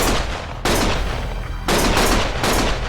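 Dense gunfire in the video game Lost Judgment: rapid rattling bursts crash in at close range and keep up almost without pause, with sharp surges in loudness as new volleys start.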